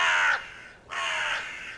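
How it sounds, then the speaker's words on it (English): A recorded crow gives two loud, harsh caws, close and clear with a short pause between them. "I'm thinking it's a crow."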